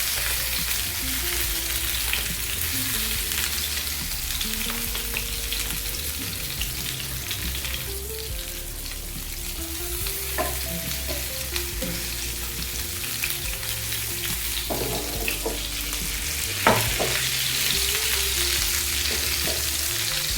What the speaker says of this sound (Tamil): அப்படியே வதங்கட்டும். அப்படியே ஒரு வதம்.